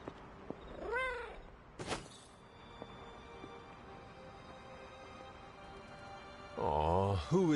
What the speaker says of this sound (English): Aw, who is a good kitty?